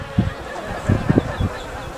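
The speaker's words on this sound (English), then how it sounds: "That's so much bees." Bees buzz close by in short bursts, several insects droning and fading in and out over a couple of seconds.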